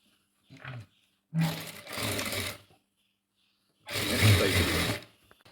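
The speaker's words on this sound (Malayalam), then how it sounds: "ഇതേപോലെ തന്നെ മറ്റേ പീസും തയ്ച്ചെടുക്കണം" A sewing machine stitches a fabric piece in three short bursts, the last the longest, with a brief whir near the start; close and fairly loud with pauses of silence between runs.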